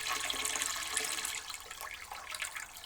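A toilet tank refills from a sump pump hose, water rushing and gurgling continuously at close range, easing slightly toward the end.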